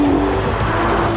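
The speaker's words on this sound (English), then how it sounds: "It's got a huge V12, it's loud, it's beautiful," Aston Martin DBS supercar with a 715-horsepower V12, a loud sustained engine roar heard close and steady with no breaks.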